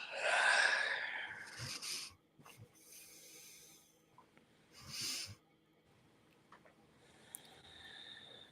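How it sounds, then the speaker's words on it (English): A person yawns with a long, breathy exhale at the start, followed by quieter breaths and a second, shorter yawn-like sigh, close and soft against a hushed room. "There's a little yawning that happens as I transition."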